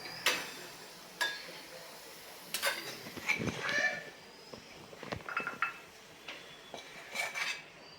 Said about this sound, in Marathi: ही भाजी एका बोलमध्ये काढून घेऊया